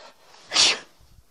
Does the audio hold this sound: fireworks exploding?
no